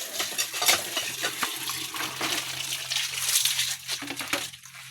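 Water splashes and runs in a steady broadband wash during a rinse after swimming at a seaside boulevard, close and continuous with small sloshing surges and faint knocks.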